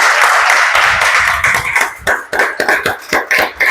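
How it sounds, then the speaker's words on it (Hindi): Church congregation in a Hindi-language service claps together in a welcome, dense overlapping applause that starts as a steady roar and breaks into irregular bursts, close and fairly loud. "अब हम सब मिलकर ताली बजाएंगे"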